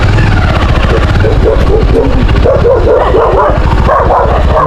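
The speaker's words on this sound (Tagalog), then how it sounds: "Lalaki ng aso nila oh." Large dogs bark outside a rural house in the Philippines, repeated yaps and woofs at close to mid range over a steady motorcycle engine hum and wind.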